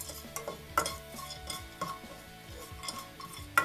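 Cloves and star anise dry-roasting in a pan for a village-style chicken salna, faint stirring with soft scrapes and a few light metallic clinks in an irregular rhythm, close but quiet.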